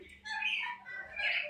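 A Bali myna gives two clear, close calls with a slight pause between, each a bright, ringing phrase with no other sound around it.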